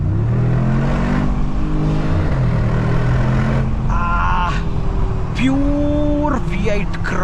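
Mercedes G63 AMG V8 engine heard from inside the car on an Indian highway, a steady loud drone with rising and falling revs, with a window down and some road noise mixed in.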